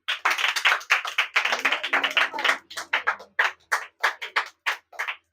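A church congregation claps along in a long run of sharp, irregular hand claps, loud and close, breaking into separate bursts toward the end, with a low voice briefly underneath.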